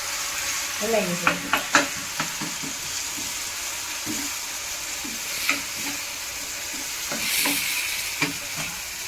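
Cumin and onion gravy fries in a pan for a potato bhungla dish, with a continuous sizzle and scattered scraping clicks as it is stirred, close by, with faint voice traces.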